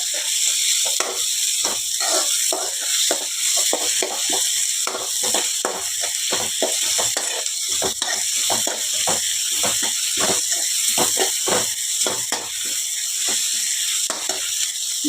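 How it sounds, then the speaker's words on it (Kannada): Chopped onions fry in hot oil in a pan, giving a steady, dense sizzle with fast crackling pops throughout; no talking. "ಈರುಳ್ಳಿ ಸ್ವಲ್ಪ ಫ್ರೈ ಆಗಲಿ ಫ್ರೆಂಡ್ಸ್."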